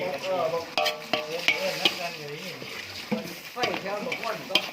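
Meat and basil sizzle and scrape in a hot pan as they are stir-fried, with a spatula clacking rhythmically against the metal and someone talking over it.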